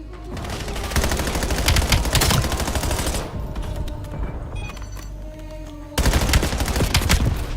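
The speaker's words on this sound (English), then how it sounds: "Gravemaker firing." The Gravemaker weapon fires in a Call of Duty match on the Nuketown map: loud, rapid bursts of gunfire. A quieter mechanical stretch follows, then another heavy burst at the end, all close and without speech.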